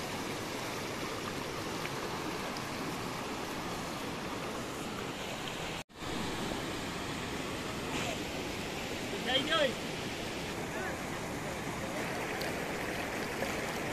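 A mountain stream (nala) in Jammu and Kashmir rushing steadily, a dense continuous roar with a brief dropout midway and a faint high chirp near the end.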